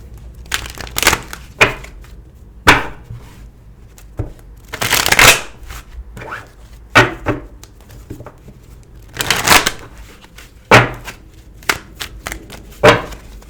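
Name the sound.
shuffling tarot cards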